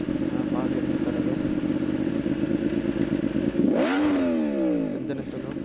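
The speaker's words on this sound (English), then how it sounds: "Si R1, naka SC Project exhaust." A 2019 Yamaha R1 with an SC Project exhaust, from the Ride 4 game, holds a loud, steady engine drone, then revs sharply with a rising and falling sweep; a voice talks throughout.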